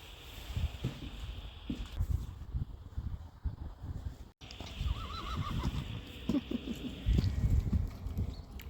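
A horse neighs and whinnies amid hoof clip-clops and stable movement during a riding session, the calls fairly close and repeated over a busy, rustling background.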